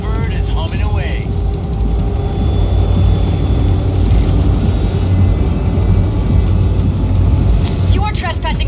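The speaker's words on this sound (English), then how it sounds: "did you fire up that drone? The little bird is humming away." A combat drone hums steadily in the video game Cyberpunk 2077, a loud droning whine running throughout, with brief chirping electronic tones at the start and end.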